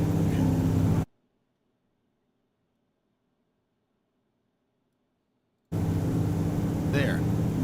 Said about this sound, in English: The engines, when you're flying, when you're going full speed, it's always loud.